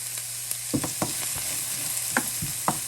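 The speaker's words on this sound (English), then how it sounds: "I'll add my onion on medium high. And you have to saute the onion." Chopped onion sautéing in hot oil on a stovetop over medium-high heat, a steady close sizzle with crackles and spits of stirring throughout, no voices.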